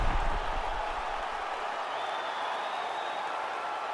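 A capacity crowd applauding between rounds at a UFC 300 fight, a dense, steady roar of clapping and crowd noise that holds at an even level throughout.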